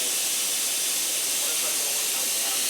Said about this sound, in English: it's time to let out the steam from the pressure cooker